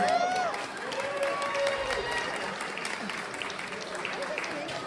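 Wedding guests applaud the newly married husband and wife, a lively burst of clapping and cheering from the crowd that gradually settles into steady, softer clapping, with voices mixed in.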